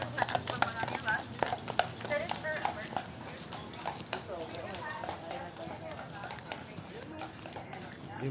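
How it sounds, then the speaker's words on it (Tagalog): A horse walks along a town street in Michigan with hooves clip-clopping in an irregular rhythm, fairly close at first and then softer, while people talk over it. "ang laking kabayo nila"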